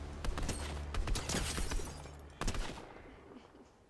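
Fortnite gunfire comes in dense, rapid overlapping shots for about two seconds, a pause, then one more sharp burst that fades into a trailing echo.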